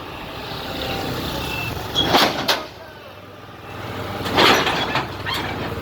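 A heavy vehicle reverses at a Karachi BRT Green Line construction site with a lifting excavator. Two loud mechanical bursts of straining and clanking rise over a steady engine rumble and site noise.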